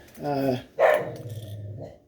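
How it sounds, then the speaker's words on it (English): A dog close by gives a couple of short barks, a throaty growl running between them. "Murphy was barking at me."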